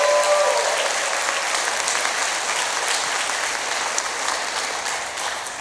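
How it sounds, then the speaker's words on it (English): Audience applause for honored teachers at a college football summit event, dense and sustained clapping from a large room, loud throughout and slowly tapering at the end. "Let's give them a round of applause."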